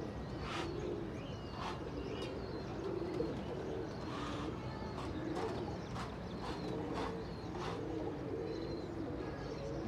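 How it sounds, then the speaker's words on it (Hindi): Pigeons cooing among a flock kept by a Lucknow pigeon fancier, soft repeated coos and calls over a steady outdoor bustle, with faint hoof-like clip-clop in the background and no talk. "ये कबूतर आ रहे हैं।"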